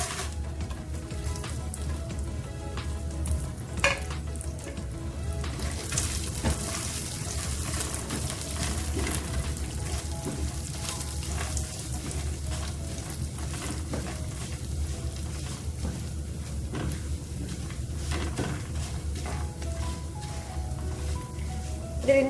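Chana dal, urad dal, peanuts, cashews and dried chillies frying in a pan for potato idiyappam, a soft continuous sizzle with faint stirring scrapes and a low background hum throughout.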